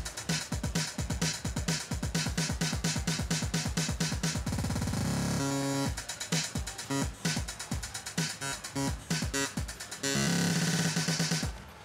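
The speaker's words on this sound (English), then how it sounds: "so you can actually chop up the beat and make really cool fills just based on a simple loop" A Roland TR-8 drum loop is chopped up by a scatter effect, with punchy kicks and hats stuttering into rapid repeats, gated bursts and shifting fills, loud and continuous with no talking.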